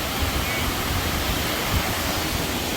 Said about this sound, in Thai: ตรงที่น้ำตกลงตรงนี้เนาะ